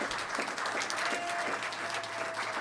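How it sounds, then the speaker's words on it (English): A board of education meeting audience applauds a student of the month, a steady burst of clapping from many hands that continues throughout. "Clap it up for Oliver, please."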